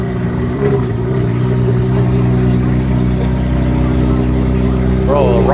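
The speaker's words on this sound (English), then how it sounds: "GT3 is freaking loud" A Porsche GT3 idles loudly at a cars and coffee meet, with a steady low engine drone throughout and a slight rise near the end, under people talking nearby.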